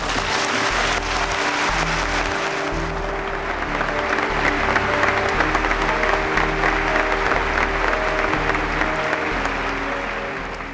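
Members of Congress applaud the president in sustained, dense applause from a large hall crowd, holding steady for about ten seconds before easing slightly at the end.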